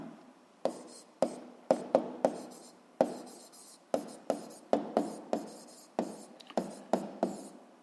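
Pen or marker strokes on a surface while noting down the number of oscillations, a series of short sharp scratches in uneven bursts, close and clear with no talking.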